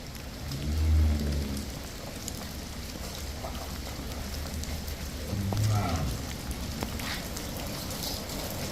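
Rain falling steadily on a cattle farm, a constant hiss of drops on surfaces, with a cow lowing twice in the background and faint talk.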